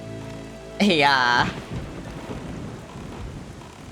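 Steady rain in The Legend of Zelda: The Wind Waker, a soft continuous hiss that runs under the whole stretch, with a brief spoken word near the start.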